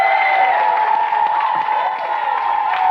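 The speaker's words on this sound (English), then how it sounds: "Give her a round of applause, Virginia McDonald." A studio audience on a live Saturday-morning TV show gives a sustained burst of applause and cheering, loud and close, with a faint tonal hum running underneath.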